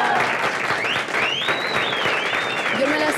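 An audience bursts into steady, full applause that fills the whole moment, with cheering and a whistle rising over the clapping.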